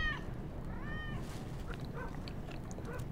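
A cat in a Squid Game episode meows several times, fairly close, over a dense low background of scene ambience and soft noise.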